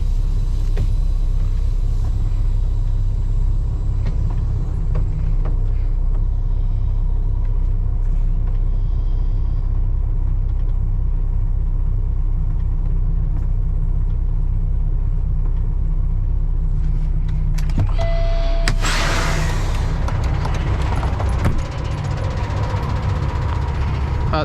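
Semi truck idling and creeping backward toward a spread-axle dry van trailer, a loud continuous diesel rumble close by, with a brief clatter and hiss near the end as the rig closes in.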